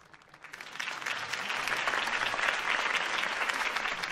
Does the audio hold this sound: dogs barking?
no